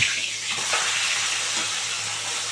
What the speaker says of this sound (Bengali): মাছ ভালো করে কড়া করে ভাজা হয়ে গেছে এবার উল্টে দেবো